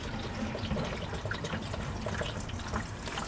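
Water dribbles and trickles out of a boiler circulation pump during replacement, a faint, steady wet splatter with small irregular drips close by.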